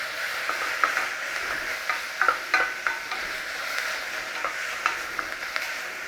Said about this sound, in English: Nice little saute on there